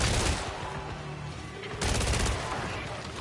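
Sustained automatic fire from an assault rifle with 30-round magazines in the video game Killing Floor 3, a dense loud burst that dips briefly near the middle and then surges back, with no talk over it.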